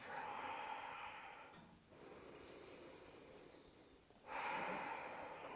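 Heavy, audible breathing after strenuous vinyasa yoga, with long exhalations and deep inhales in a slow rhythm and a short quieter pause between breaths, close and alone without talk.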